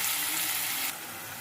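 Onions with salt fry in a pan, giving a loud, steady hiss that drops noticeably quieter partway through.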